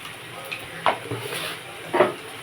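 Snake gourd curry is stirred in a pan, with a few soft scraping strokes and light clinks of the spoon against the metal over a faint background hiss.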